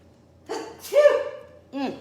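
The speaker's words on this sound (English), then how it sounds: "Oh, I gotta sneeze again." A short breathy intake, then a sharp nasal sneeze, followed by a brief voiced exhale or second small sneeze, close and fairly loud.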